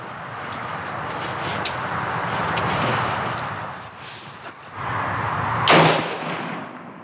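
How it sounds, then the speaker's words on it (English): A single sharp report from a Ruger AR556 AR-15 rifle late in the clip after several seconds of outdoor background noise, loud and close with a brief decaying tail. "this is the first shot since we got it back from Ruger"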